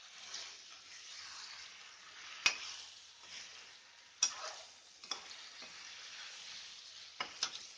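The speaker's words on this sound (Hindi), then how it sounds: "और इसके साथ भून लेते हैं मसाले के साथ।" Chicken pieces frying with freshly ground masala in hot oil over medium-high heat while being stirred and turned, a steady close sizzle broken by a few sharp clinks and scrapes of a spoon against the pan.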